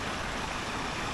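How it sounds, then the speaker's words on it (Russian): Mountain stream Sekret Sai flowing through a gorge, a steady broadband rush of water heard up close without a break. "А это ручей Секрет Сай."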